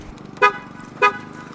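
Two short horn chirps from a parked car being locked with its engine off, about half a second apart, clear and close against faint background hum.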